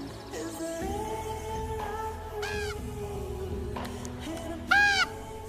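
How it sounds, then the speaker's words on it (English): An owl gives a few rising, wavering hoots in a quiet cemetery over low ambient music, the last call loudest and close. "Hi, bird."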